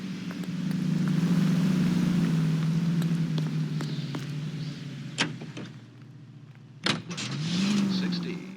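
A car drives in the L.A. Noire video game, with a steady engine drone that rises and falls. Two sharp thumps break in, the engine briefly drops away, and then it revs back up.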